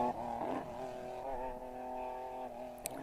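A BMW rally car engine on a rally stage gives a steady, fairly loud harmonic drone with a slight rise near the start, holding an even pitch for several seconds before a brief click at the end.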